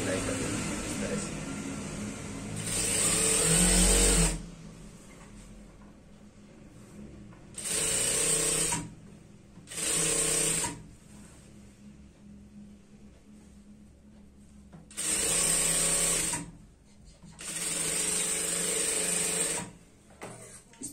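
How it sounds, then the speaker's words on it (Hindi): An electric sewing machine stitches a semi-Patiala salwar in several whirring bursts of a few seconds each, separated by pauses with quiet background sound. "सिलाई कर देना इस तरह से।"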